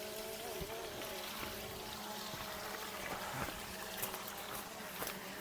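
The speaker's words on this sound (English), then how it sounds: "Let's turn the water off." Running water from a tap pours and trickles steadily at low volume, a continuous wash with a few small splashes, close by and with no talk.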